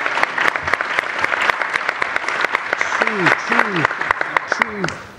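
Audience applause at a speed-debate event at the AusCERT2014 conference celebrates the debate winners, with close, loud, sharp individual claps over a dense crowd clapping, and a few voices calling out partway through.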